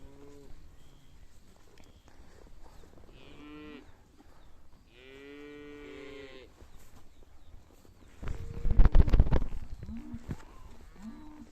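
Young calves on a summer pasture moo in several drawn-out, clear calls, one long bellow in the middle, followed by a louder burst of rough noise near the end.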